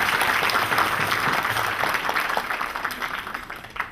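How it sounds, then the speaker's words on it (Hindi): Loud clapping from a gathered congregation welcoming Shiva during a Krishna Janmashtami Bhagwat Katha, a dense burst that gradually thins and fades toward the end. "शिव जी का जोर से तालियों से स्वागत करें।"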